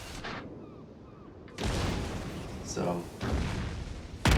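Incoming naval shellfire in the warship battle game World of Warships, heavy rumbling booms that swell in after a quieter stretch and roll on loudly to the end, with a brief spoken word near the start.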